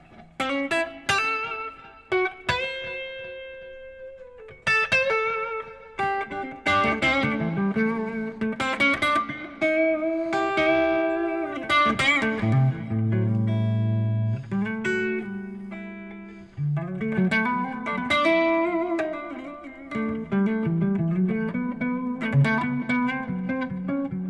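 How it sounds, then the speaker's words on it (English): An electric instrument plays melodic phrases through a Cooper Time Cube delay and Lexicon 224 reverb, with long echoing repeats and a washy reverb tail, loud and alone without any voices. "And you're also hearing the Lexicon 224 reverb"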